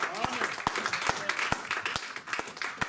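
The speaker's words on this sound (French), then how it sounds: "Donnons des acclamations au Seigneur." Congregation applause in a church during a French-language sermon, a steady wash of clapping with several sharp rhythmic claps standing out, mixed with voices throughout.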